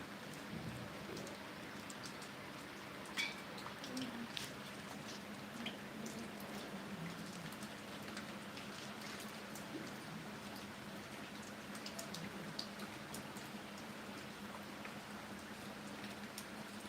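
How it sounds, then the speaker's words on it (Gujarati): Steady rain under a dark sky, a soft continuous hiss with scattered drips and patters, faint and fairly distant, with no talking. "જો વરસાદ ચાલુ છે"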